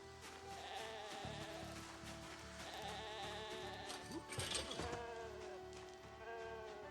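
Sheep bleat a few times over a busy, steady soundscape in the video game Project Zomboid with a low hum, and a brief clatter stands out midway.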